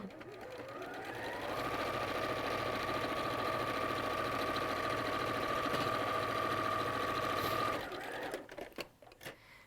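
A sewing machine runs steadily for about eight seconds, stitching fabric pieces together with a continuous motor whir and rapid needle rhythm, then stops with a few small clicks and handling sounds.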